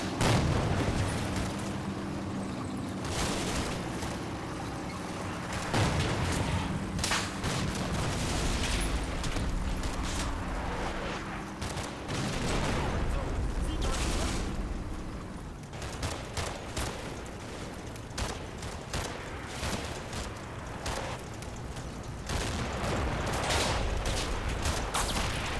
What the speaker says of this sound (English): half-track trundles down the road, firing upon the defenders.